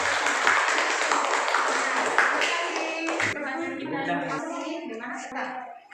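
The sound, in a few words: audience applauding after a group presentation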